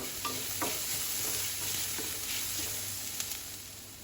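Steady sizzling of ginger and garlic frying in a pan, with scraping stirs and light clinks of a spatula throughout, close and continuous.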